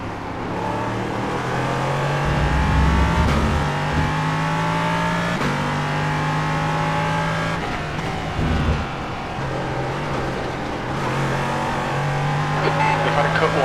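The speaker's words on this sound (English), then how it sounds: "enjoy the sound of the glorious LMP3" A Ligier-style LMP3 prototype race car in the iRacing sim at Barcelona, its engine droning and revving steadily through gear changes with brief lifts, loud and continuous, while someone talks over it.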